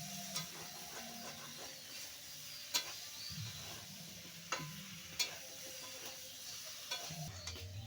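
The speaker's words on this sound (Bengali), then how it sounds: "কুমড়ো আলু মাছটাও দিয়ে দেবো, একবারে কষিয়ে নেব।" Pumpkin, potato and shrimp sauté in a pan for a Bengali curry, giving a steady low sizzle with scraping stir strokes and a few sharp utensil clicks against the pan.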